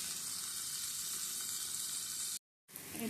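Tomatoes sprinkled with salt sizzle steadily in a hot pan, a dense, close frying hiss that cuts out briefly near the end and then returns.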